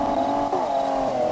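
A video-game car drives along with a steady engine drone that shifts pitch twice as gears change, loud and close with no talking.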